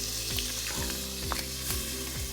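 Butter and a little olive oil sizzle and fry in a pan that holds browned sausage bits, with a soft, steady crackle and a few brief stirring scrapes, fairly quiet and without talk.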